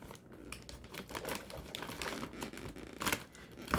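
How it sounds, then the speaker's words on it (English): A FedEx package, wrapped like a Christmas present, gets opened with scissors, giving close crinkling and tearing of paper and plastic in quick irregular bursts, loudest near the end. "Carlos, don't be pointing the scissors at yourself when you're opening something"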